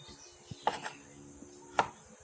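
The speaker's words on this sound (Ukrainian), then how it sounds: "Тому я нарізаю отак часник і нарізаю тофу." A few quiet, sharp knife chops slicing garlic tap against a cutting board, spaced irregularly in an otherwise hushed room.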